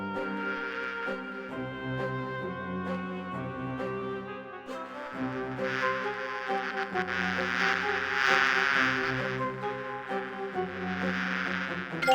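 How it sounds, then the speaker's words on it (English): Bees hum in Discworld II, a steady droning buzz that holds throughout and swells louder midway, layered over tonal game music with no talk. "Bees bees, nature's little workers."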